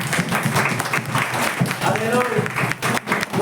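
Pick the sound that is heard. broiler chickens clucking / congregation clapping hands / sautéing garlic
congregation clapping hands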